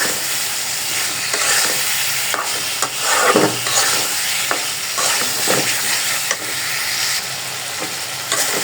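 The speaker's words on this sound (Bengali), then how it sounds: "মুরগিটা ভালোভাবে কষানো হয়ে গেছে" Broiler chicken pieces sizzle loudly in oil and spice paste in a pan, with steady frying hiss and intermittent scraping strokes of a spoon stirring close by.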